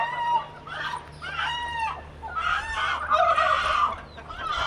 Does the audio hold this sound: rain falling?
no